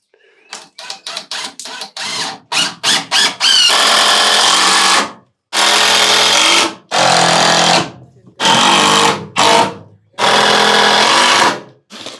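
A power drill drives screws into metal barn siding on an animal enclosure build: a run of short quick bursts, then several longer loud whirring runs separated by brief pauses, close by.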